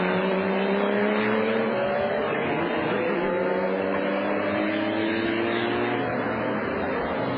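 Porsche GT2 race cars howl around the track during qualifying at the FIA GT round in Valencia, a dense, loud engine roar with gear changes and rising, overlapping revs from several cars.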